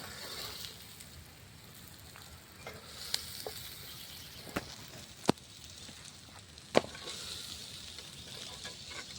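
Chicken pieces shallow-frying in a pan, cooked outdoors during heavy rain, a steady soft sizzle with several sharp crackles and pops, close by, no voices.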